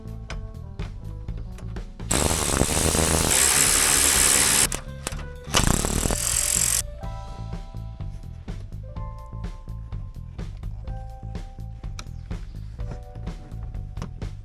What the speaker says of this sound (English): I'm going to go ahead and remove the screws that hold the headlight in place.